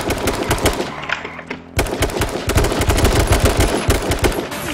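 Rapid bursts of gunfire in the battle royale game H1Z1, loud, close and repeated, with a brief lull before the shots resume and continue steadily to the end.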